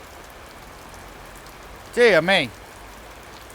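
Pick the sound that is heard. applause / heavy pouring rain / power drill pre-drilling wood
heavy pouring rain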